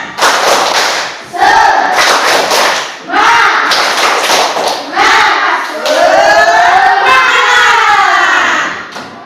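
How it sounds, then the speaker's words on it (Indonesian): Fourth-grade primary school pupils standing in a classroom perform a spirit clapping chant, loud rhythmic bursts of clapping alternating with shouted group chanting in several bursts, children's voices carrying strongly throughout. "Tepuk semangat."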